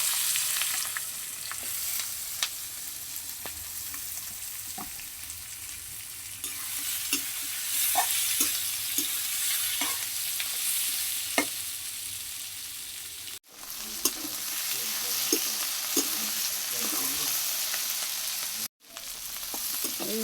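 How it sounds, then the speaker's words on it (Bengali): Raw jackfruit frying in plenty of oil hisses steadily while a utensil stirs it, adding scattered scrapes and clicks, close and continuous, with two brief drops where the sizzle cuts out, and no speech. "এই কাঁঠাল নাড়ি করা হয়ে গেছে প্রায়"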